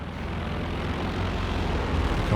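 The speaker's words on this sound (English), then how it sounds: "Plane up in the air." Propeller aircraft in the World War II strategy game Company of Heroes 2 drone steadily overhead as a loud, continuous engine rumble that swells slightly, with no voices.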